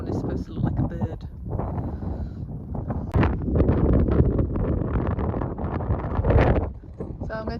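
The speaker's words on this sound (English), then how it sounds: "it is quite windy because I'm stood up on top of a rock" Strong gusts on top of a rock outcrop on Carn Brea hilltop buffet the microphone in heavy, uneven bursts, with a person talking through the wind noise.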